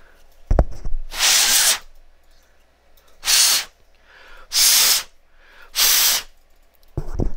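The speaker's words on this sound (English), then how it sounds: "compressed air works even better for that" Compressed air blasts into an RJ45 connector during a water-damage repair on a Ubiquiti UVC G3 camera, with four loud, broadband hissing bursts of about a second each, separated by short pauses.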